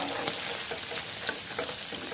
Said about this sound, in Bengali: তো আমার চিকেনগুলো প্রায় ভাজা হয়ে গেছে।